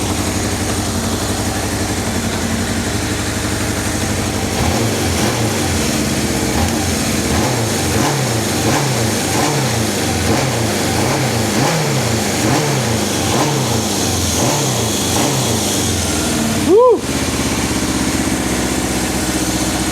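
Kawasaki KZ650 motorcycle engine after carburetor synchronization, idling and then blipped in a quick run of about a dozen rhythmic throttle revs, loud and close, with a sharp whine near the end.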